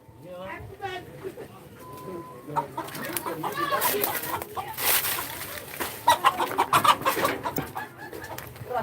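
A rooster crows and hens cluck at a live outdoor gathering, the calls mixed in with people talking and crowd noise throughout.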